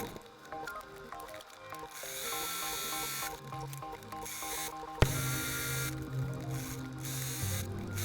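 A sewing machine stitches the body seams of a polka dot sweatshirt in a home sewing room, running in steady mechanical bursts with brief pauses and a sharp click near the middle.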